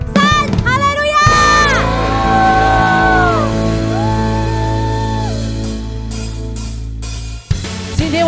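A church worship congregation cheers, whoops and shouts together in a large hall. The crowd is loud and sustained, with a few voices rising above it, and it dies away near the end.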